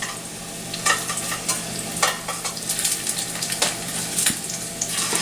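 Pork meatballs fry in a hot pan with a steady, close sizzle. Irregular scraping and stirring knocks sound over it, and nobody talks.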